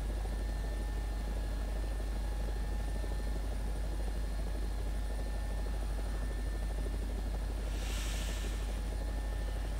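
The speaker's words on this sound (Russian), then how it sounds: "Вертолетчики заходят на посадку" Helicopters coming in to land in the War Thunder video game during a night raid over Afghanistan, heard as a steady, loud rotor drone with a constant engine hum that carries on without a break and briefly brightens near the end.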